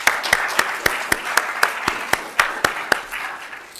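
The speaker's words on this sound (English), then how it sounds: "so let's give her a round of applause." Audience at an art talk for a museum photography exhibition gives a round of applause, with a steady patter of clapping and sharper individual claps at a regular pulse, fading slightly toward the end.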